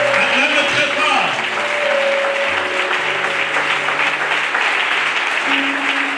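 A church congregation applauds and cheers loudly and continuously, a dense wash of clapping with voices calling out and talking among it.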